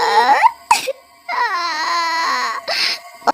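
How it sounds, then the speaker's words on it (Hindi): Sobbing, wailing cries in a horror story, several loud close-up bursts broken by short sharp gasps, with a high, wavering, childlike quality. "बबलू को अचानक किसी औरत के रोने की आवाज आती है।"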